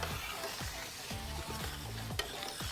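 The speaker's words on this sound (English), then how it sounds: "I'm going to take this blend of beef and mushrooms and we're going to add that to the pan" A cooked beef and mushroom mixture lands in a hot pan and sizzles, a continuous close frying hiss with soft scraping stirs and a small clack near the end.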